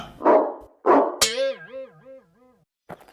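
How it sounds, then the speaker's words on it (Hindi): A cartoon dog barks twice in quick, close, loud yaps, then lets out a wavering whimpering howl before a short final sound. "चाचा चौधरी और चांग चमन का कुत्ता"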